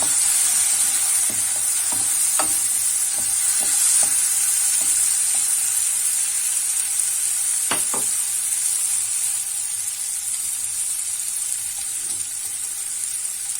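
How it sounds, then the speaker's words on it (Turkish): Peas and chickpeas sizzle steadily in a hot pan while being stir-fried for a vegetable barley dish, with a constant bright hiss and occasional spoon clacks against the pan, no voices. "bezelyelerimizi ve nohutlarımızı koyup kavurma işlemine devam edelim"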